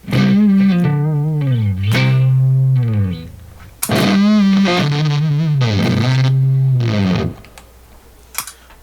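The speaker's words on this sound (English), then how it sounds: "So it's fuzz and wah." Distorted electric guitar phrases with a sweeping wah filter, bending and vibrato-laden notes in two loud bursts separated by a brief pause.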